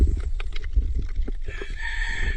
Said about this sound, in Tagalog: Oy, manok!